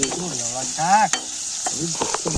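Potatoes fry in a pan at an outdoor picnic, a steady close sizzle running throughout with a few squeaky, scraping stirs of the utensil on top.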